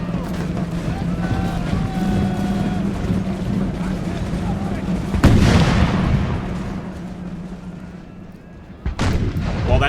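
Musket volleys from infantry units in the strategy game Imperial Splendour, a rolling crackle of massed fire with two loud sharp bursts standing out, over a battlefield din and a person talking.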